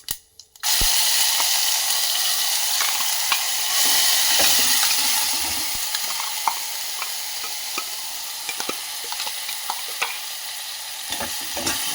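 Ground masala for palak paneer fries and sizzles in a hot pan, a steady close crackle with scattered stirring clinks and scrapes throughout, no voices.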